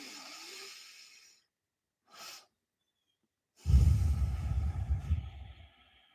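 A woman demonstrates deep breathing: a soft exhale, a brief quiet inhale after a pause, then a long, loud, close breath out that fades near the end.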